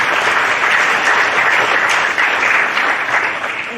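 Steady, loud applause from an audience at a live science week event, dense clapping continuing evenly throughout and fading a little at the close.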